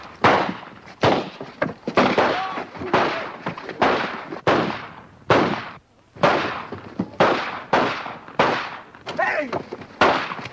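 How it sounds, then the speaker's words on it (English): A rifle fires rapidly in a 1942 military comedy film: about a dozen sharp, loud shots crack out in a fairly regular rhythm, each one followed by a short decay. "Now, stick it out there and start firing."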